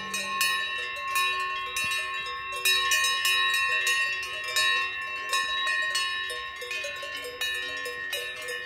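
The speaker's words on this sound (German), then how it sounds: "Schöne ist natürlich auch diese Glocken die ganze Zeit, ja? Dieses Geläut." A continuous peal of bells rings throughout, bright overlapping metallic strikes sustaining in a dense, steady layer with no voices, heard during a flute and alphorn duo's outdoor performance setting.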